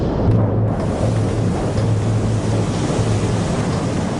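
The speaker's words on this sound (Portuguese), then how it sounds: "Onda após onda batem nas estruturas da linha costeira e inundam as ruas da cidade." Hurricane Sandy storm surge waves pounding the coast, a continuous roaring wash of surf and wind with low rumbling underneath, loud and unbroken, no speech.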